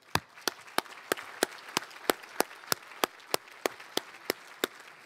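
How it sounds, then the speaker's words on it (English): Sharp, evenly spaced claps at a San Marcos State of the City luncheon ring out at a steady rhythm of about three per second, close and distinct over a faint room hum, with no talk. "let's give our sponsors one last big round of applause and thanks"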